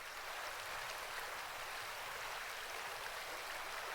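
Steady flowing stream water, a continuous bright rushing wash at even loudness throughout, close by and alone with no voices.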